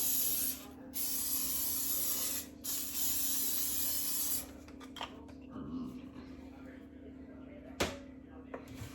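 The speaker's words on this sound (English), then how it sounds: "I'm going to spray it." Cooking spray is sprayed into a roasting pan in a home kitchen in two or three loud close hissing bursts. Quieter handling clicks and a sharp knock follow.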